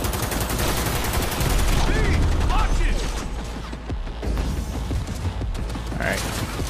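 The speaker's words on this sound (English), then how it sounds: "Shoot the bitch down. Shoot it." Video game gunfire in Cyberpunk 2077: rapid bursts of shots and mechanical clatter fill the clip, loud and dense, easing briefly in the middle before resuming, with voices mixed in.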